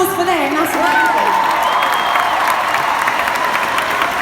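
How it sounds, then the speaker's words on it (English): Audience applause and cheering at a live event, a sustained, dense wash of clapping and crowd noise filling the whole stretch, with some voices and whoops mixed in. "Round of applause for them, that's amazing."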